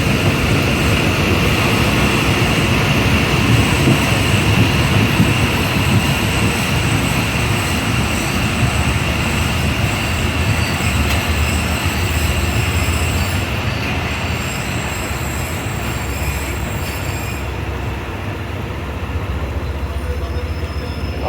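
The Shalimar Express runs through a station in heavy rain, a loud sustained roar of rolling wheels and rumbling carriages with faint squeals, continuous and close throughout.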